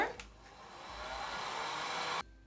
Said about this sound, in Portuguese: eu vou precisar secar com o secador ou com o soprador